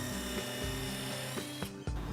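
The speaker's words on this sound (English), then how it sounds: "He'll pre-drill a pilot hole with the countersink bit." A drill bores a pilot hole with a countersink bit into clamped cabinet wood, making a ratcheting, grinding whir with a few short bursts and pauses.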